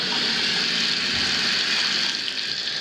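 Water gushing steadily from a tap in a home's plumbing, a loud, continuous hiss and splash close by with no talking.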